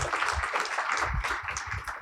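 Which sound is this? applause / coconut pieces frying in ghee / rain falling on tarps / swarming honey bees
applause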